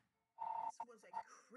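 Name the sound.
phone ringing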